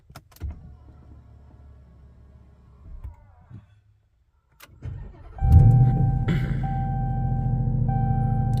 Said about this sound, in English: we are going to go ahead and start the truck